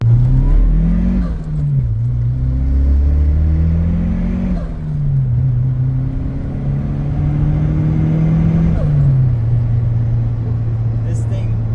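Modified heavy Volvo car with four people aboard, launching hard from a roll in first gear: a loud, close engine drone rising in pitch, easing off, then climbing again, steady throughout.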